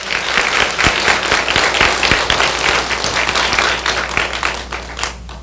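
A church congregation claps together during a sermon, a dense and loud burst of applause that holds steady for several seconds before tapering off at the end.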